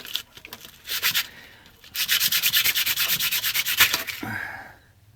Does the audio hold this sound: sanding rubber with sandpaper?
yes